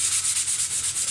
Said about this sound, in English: sand her up real good